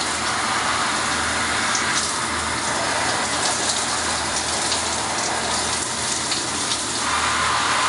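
Steady heavy rain pours down onto a raincoat outdoors, a dense continuous hiss with close pattering, no talk over it.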